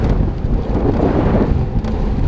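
Strong wind buffets the microphone on a night bike commute, a loud, rough, continuous roar with gusty surges.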